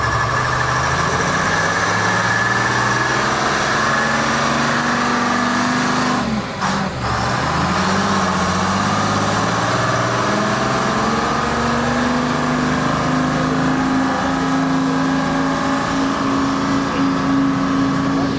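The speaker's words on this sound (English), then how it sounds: "This is a Pratt & Whitney 830 cubic inch, 1200 horsepower turbo supercharged radial engine." A Pratt & Whitney 830 cubic inch, 1200 horsepower turbo-supercharged radial aeroplane engine running at a classic truck and vintage machinery show, a loud, steady, close droning roar with a brief dip mid-way before the engine note rises again.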